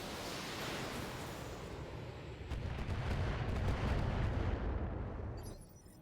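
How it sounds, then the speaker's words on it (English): A continuous roaring barrage of missiles firing in a combat video game, a dense rumbling wash of launches and blasts that swells in the middle and fades toward the end. "Firing all the missiles."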